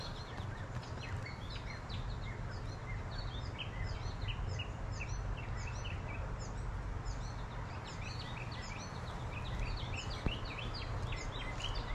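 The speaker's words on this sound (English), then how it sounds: "The birds are really singing away, aren't they?" Many birds sing and chirp in overlapping, continuous calls around an outdoor vegetable garden, soft and somewhat distant over a low steady background hum.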